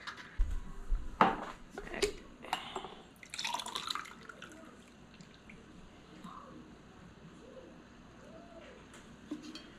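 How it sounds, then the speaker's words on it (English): Juice drains off blueberries in a kitchen: a few sharp splashes and pours near the start, then softer scattered drips and trickles fading into a quiet background. "I drained off the last of the juice,"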